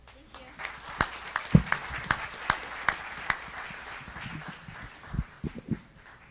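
An audience breaks into applause, a run of sharp claps and bursts that peaks then thins out, with a few louder thumps near the end and some voices mixed in.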